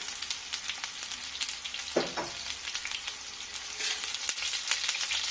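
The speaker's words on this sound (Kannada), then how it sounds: "ಸಾಸಿವೆ ಸಿಡಿತಾ ಇದೆ" Mustard seeds splutter and pop in hot oil for a raw banana stir-fry, a steady close sizzle peppered with sharp crackles and one louder burst partway through, no voices.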